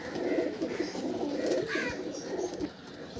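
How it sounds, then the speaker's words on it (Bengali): A Pakistani teddy pigeon in a home loft coos softly and steadily at close range over a faint background hum. "তো নেক্সট পায়রা এসে গেছে"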